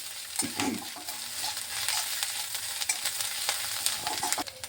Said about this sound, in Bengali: এই আদা লঙ্কাটা আমি ভালোভাবে একটু ভেজে নিচ্ছি